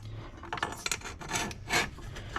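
A thin 1/16 inch piece being slid into place over a bracket and another piece gives off close, dry rasping and rubbing scrapes in several short bursts with no talk.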